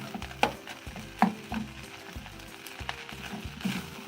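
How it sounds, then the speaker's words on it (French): Rice being stirred in melted butter in a pan, with a soft continuous sizzle and a few sharp scraping clicks of the spoon at intervals, close and fairly quiet. "Bien remuer."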